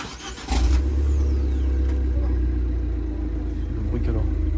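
Car engine cranks and catches, then idles with a steady low rumble and a slight rev, close by, with people talking nearby.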